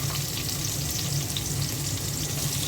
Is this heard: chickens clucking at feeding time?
no